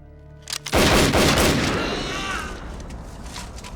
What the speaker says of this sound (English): Corporal Dalton just shot General Packer